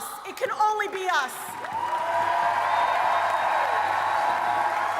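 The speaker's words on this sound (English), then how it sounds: "Now, they're all applauding." A political audience breaks into applause, a broad steady wash of clapping that swells and holds, with a voice speaking over the start.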